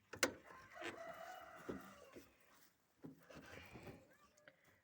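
Hens cluck and a rooster crows nearby, with scattered bird calls, mixed with soft outdoor sounds.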